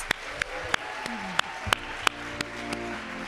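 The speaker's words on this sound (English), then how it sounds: "Please give them a hearty round of applause." Audience applause for students at a science awards ceremony, heard as sparse, evenly spaced claps about three times a second, moderately near, over a faint steady tone.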